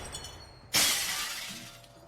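A glass panel shatters sharply in the video game Receiver 2, with a single loud crash followed by a bright, fading spray of tinkling shards.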